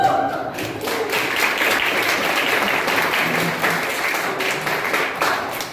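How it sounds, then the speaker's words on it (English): An audience at a Toastmasters club meeting breaks into sustained applause, dense clapping from a room full of people holding steady for several seconds. "Round of applause, everyone."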